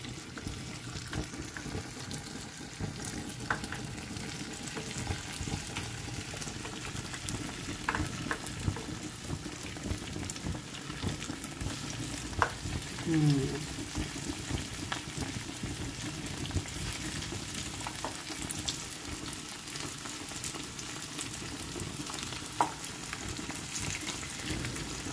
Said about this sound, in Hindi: दूसरी साइड पे ये देखिए हमारा जो ऑयल है वो गर्म हो चुका है। तो अब इसके अंदर हम इन सबको फ्राई करेंगे